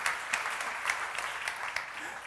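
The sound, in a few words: audience applause in church seminar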